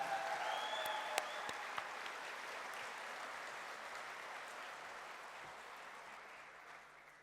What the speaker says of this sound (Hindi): आप सबसे रिक्वेस्ट करता हूं कि आप अपने लिए और ये सभी अचीवर्स के लिए एक जोरदार राउंड ऑफ तालियां बजाएं